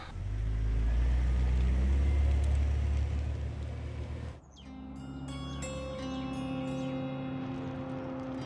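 A car engine turns over and runs with a loud, steady low rumble that suddenly cuts off, after which birds chirp and tweet clearly in a quiet outdoor setting.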